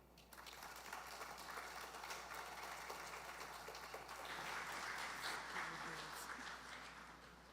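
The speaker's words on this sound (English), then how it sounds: "Let's give them a bigger round of applause." An audience at an app launch event applauds with steady, dense clapping that holds throughout at a moderate distance.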